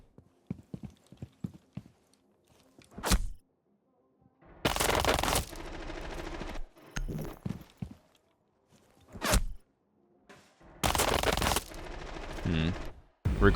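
Submachine gun bursts from an SMG-12 in a first-person shooter, several loud, sustained volleys separated by short gaps, with quieter single shots and movement sounds between them.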